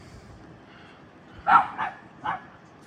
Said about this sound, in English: There's Millie barking.